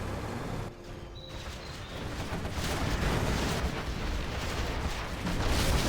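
In a strategy game, artillery pounds away as a continuous, loud roar of blasts and rumbling explosions that swells after a brief dip and keeps building.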